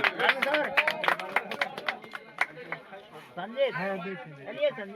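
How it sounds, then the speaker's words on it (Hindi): Scattered hand claps from a crowd at a Jan Suraaj party village rally, sharp bursts in the first half beneath loud shouting and chanting voices that carry on alone afterward. "ताली दियो ताली ताली"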